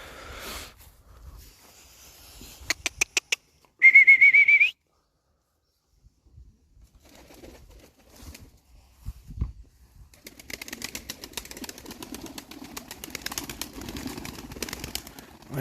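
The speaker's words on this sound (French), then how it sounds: "les pigeons vont se poser sur le point, là" Pigeons leave a loft in France: a bright whistle and rapid clicks, then a stretch of fluttering wingbeats and rustling flapping, moderately close and fairly loud.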